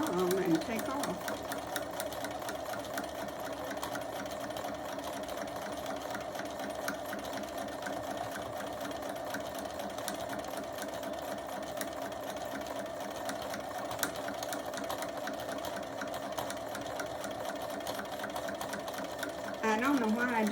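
A sewing machine stitches a round fabric mug rug with a steady, close mechanical whir that runs almost unbroken. Someone speaks briefly near the start and again at the end.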